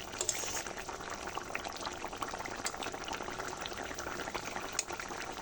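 Tangra fish and potato curry boiling in a pot, a steady close bubbling and crackling simmer running throughout, fairly quiet with no voices.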